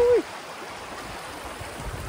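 River water rushing steadily at a river crossing on the Conasauga River Trail in the Cohutta Wilderness, a continuous broadband wash that follows a brief whistle-like tone at the start.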